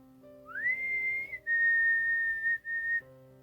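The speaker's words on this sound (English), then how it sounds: "the whistling was just right outside my front door." A single clear, sustained whistled tone rising then holding steady, broken by brief pauses, over a faint low background drone.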